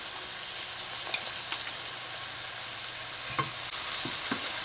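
Chopped celery, minced garlic and chopped carrots sauté in a pot for lobster chowder. A continuous sizzle runs under light scraping and clicking from stirring, close and with no talking.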